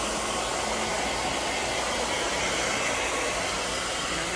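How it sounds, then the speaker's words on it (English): A hair dryer blows a steady, loud, unbroken airy roar while drying a child's scalp, close up with no pauses and no talking. "Blow drying her scalp."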